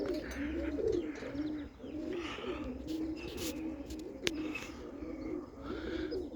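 Roller pigeons coo in a steady, layered chorus around a loft, close and continuous, with a single sharp tap partway through.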